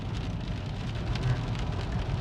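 Heavy rain pours down in Canada, a dense, loud, rumbling downpour drumming on surfaces with deep low roar, constant and close.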